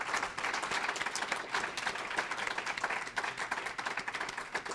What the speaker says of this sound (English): could we have one more round of applause for an extraordinary night of poetry?